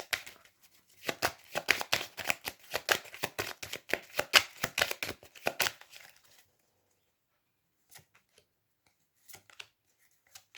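A deck of cards riffled and shuffled in quick, dense bursts for several seconds, then a few faint isolated taps and card flicks after a pause.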